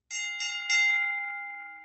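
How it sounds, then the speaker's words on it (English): A single bell rings once at a fairground midway prize game, giving a bright metallic strike that rings on with a long sustained tone and slowly fades, heard alone with no voices. "That was the sound of a bell from someone winning a prize down on the Midway"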